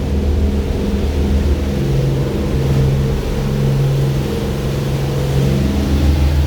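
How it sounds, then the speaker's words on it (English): A 42 Roberson boat runs at speed on twin engines during a water test, giving a steady loud low droning rumble with a faint pitch wobble throughout and no talk. "Both engines are definitely pumping."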